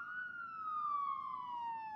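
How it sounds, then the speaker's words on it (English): A police car siren sounds in a single smooth falling wail, clear and steady, with no talking over it. "What's with your siren? What's with the siren?"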